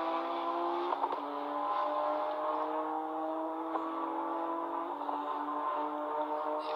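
A Porsche race car at the 1997 Le Mans 24 Hours holds a steady high-pitched engine whine at sustained speed, loud and continuous with slight pitch shifts, and no voices over it.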